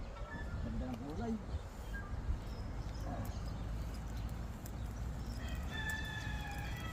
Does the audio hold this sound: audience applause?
no